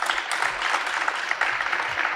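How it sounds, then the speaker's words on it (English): Steady applause from a crowd at a high school athletic signing ceremony, dense clapping sustained and fairly close throughout the short stretch. "Let's give him a big round of applause"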